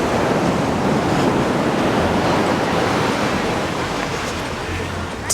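Ocean surf breaking on the shore beside a beach resort at Playa Mita, Mexico, a steady, dense wash of waves that fills the whole stretch, slightly buffeted by wind on the microphone.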